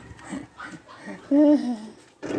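A dog whimpers and gives a short whiny yelp close by, amid faint breathing and soft voices.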